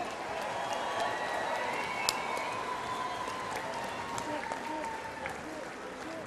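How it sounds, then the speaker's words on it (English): An audience at a fight bout claps steadily and densely after the match ends, a continuous wash of applause with light crowd noise, heard in a hall at moderate level. "Ladies and gentlemen, another round of applause."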